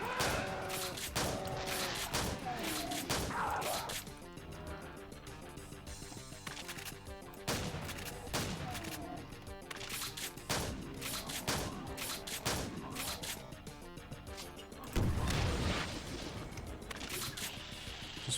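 Rocket explosions in a video game, repeated sharp blasts and booms scattered through a busy mix of game sounds, with a heavy burst near the end, fairly faint overall.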